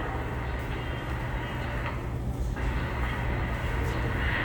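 NYC Subway R142A Metroflexx test train bypassing Jay St-MetroTech station, a steady low rumble and broadband roar of the passing cars that swells slightly toward the end, moderately loud.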